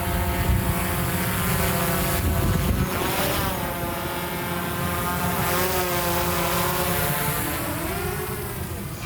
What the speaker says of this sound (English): So when you first launch your drone, you want to make sure your drone is going to be responsive to your controller.